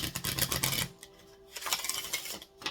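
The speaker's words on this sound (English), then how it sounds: "I think I'm going to go ahead and just do one hard shuffle" A deck of tarot cards being shuffled hard by hand: rapid, dense riffling flutter in two close bursts separated by a short pause, fairly quiet.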